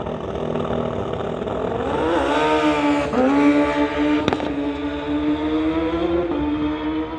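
A motorcycle in a street-legal drag racing class rides at the strip, its engine droning loudly and steadily with rising pitch sweeps as it revs, plus a couple of sharp cracks, close and continuous throughout.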